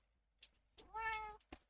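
Pet cat meowing nearby in a quiet room: one clear, drawn-out meow framed by a few soft short sounds before and after.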